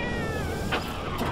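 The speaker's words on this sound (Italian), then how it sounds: "Ma sto coso fa miau! Ma chi è un gatto?" A cat-like alien creature in No Man's Sky gives a drawn-out meow over steady game noise, followed by short, bright clicks near the end.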